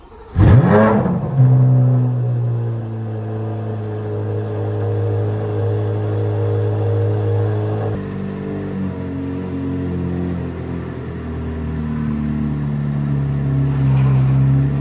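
A brand-new 2024 Corvette C8 Z06 engine cold-starts with a sharp flare and rev, then settles into a loud, steady high idle that drops slightly midway and swells again with a blip near the end.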